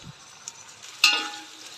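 Tomatoes and masala fry in a pan while being stirred, giving a soft crackling sizzle that swells suddenly about a second in and then slowly fades.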